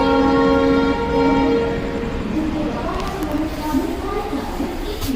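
Inside a sleeper class coach of the 22492 Mandore Superfast train, a steady low rumble and rattle of the moving carriage fills the space, with people talking nearby throughout.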